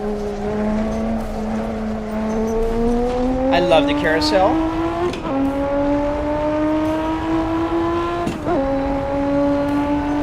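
A Lotus Evora GT430 engine in a racing video game, loud and near, revs in long rising pulls with sharp drops at gear shifts and brief tire squeal, while someone talks over it.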